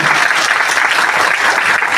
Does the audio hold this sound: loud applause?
yes